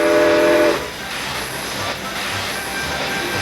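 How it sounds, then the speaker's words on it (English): A loud steam locomotive whistle blasts briefly at the start, then gives way to the steady rumble and hiss of a train. "pull that rope and blow the whistle for me"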